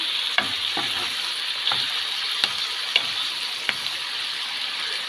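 Chopped onions sizzling and frying in a pan while being stirred, a steady close hiss with a few sharp ticks of the utensil against the pan, no talk.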